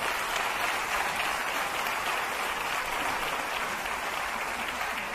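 Steady, even applause from a theatre audience at a comedy show, dense and continuous, moderately distant, with no voices over it.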